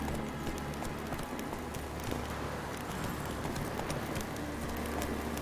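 Galloping hooves of Roach, a horse in The Witcher 3 video game, drum in a steady fast rhythm at moderate distance, with a faint wash of background ambience and no talking.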